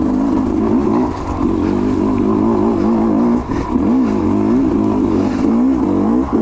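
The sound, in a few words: Sherco 250 SE Factory motorcycle engine lugging in second gear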